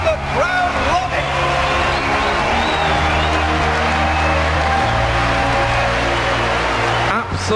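A packed esports arena crowd at IEM Katowice 2013 roars as Gambit Gaming take game one of a League of Legends semifinal against Azubu Frost. The dense, loud cheering holds steady throughout, with a voice faintly mixed in.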